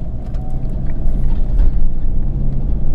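Toyota Prado 150 with a 3.0L diesel (KDJ) pulling away from slow speed and climbing through its automatic gears, a steady loud engine drone and low rumble with slight surges as the shifts come.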